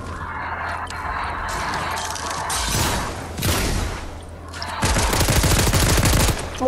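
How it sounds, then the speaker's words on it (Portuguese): Close gunfire in a Fortnite match: repeated bursts of rapid automatic shots and heavy single blasts, loud and near, coming in clusters with short gaps between. "Estão atirando, é do lado."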